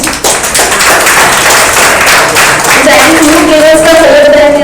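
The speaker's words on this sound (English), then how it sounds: "I think a big clap for all the students" Audience applause for students receiving prizes at the 2023 Shakuntala Shakthi awards ceremony, a dense, steady wash of many hands clapping together, loud and close throughout, with a faint voice emerging near the end.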